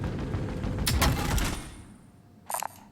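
Video game gunfire: a quick cluster of sharp shots, then a short pause and one more brief burst, at moderate loudness over steady game background noise, with no voices.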